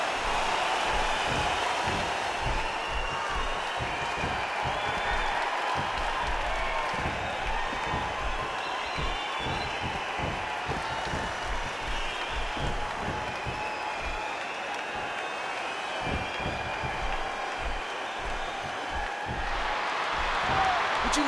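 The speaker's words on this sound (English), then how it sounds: "Would you listen to this crowd show their appreciation for these amazing competitors?" Crowd in the WWE 12 video game applauding and cheering through a ladder match between Rock and Mark Henry, a steady dense roar sustained throughout with scattered thuds beneath.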